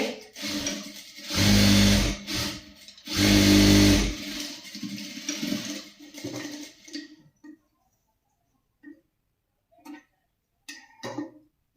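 A sewing machine stitching fabric in two loud whirring bursts of about a second each, followed by softer mechanical ticks, clicks and handling noises before near silence.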